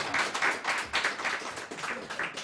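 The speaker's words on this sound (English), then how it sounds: "I say to the audience, applause" A small audience at a jazz guitar performance applauds in a short, steady patter of clapping, moderately close and unaccompanied by talk.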